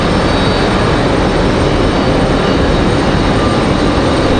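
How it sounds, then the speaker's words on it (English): Breeze Airways Airbus A220 airliner passing low overhead beneath a cloud ceiling at Raleigh-Durham International, heard as a steady, loud, broadband engine roar that holds for the whole stretch without fading. "That A220 making a surprise appearance over here on our side."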